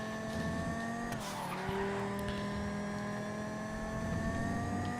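Race cars on Azure Sky Raceway in Grand Theft Auto, engines whining at a steady high pitch with a brief tire squeal and shifting tones as cars jostle, loud and continuous with no talk.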